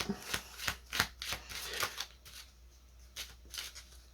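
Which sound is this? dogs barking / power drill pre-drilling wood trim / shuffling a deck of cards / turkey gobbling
shuffling a deck of cards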